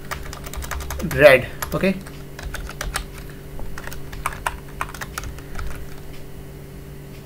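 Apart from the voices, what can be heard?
typing on a computer keyboard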